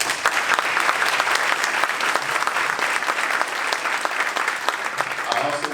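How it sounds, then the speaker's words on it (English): Sustained audience applause fills a community celebration marking 31 years of service, steady and dense throughout, with a few voices in the crowd near the end. "Let's give another round of applause for Yolanda Harris"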